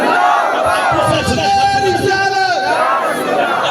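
A crowd responds to a religious speaker with a loud, sustained Nara-e-Takbir chant, many voices shouting together in unison as a single rolling cry.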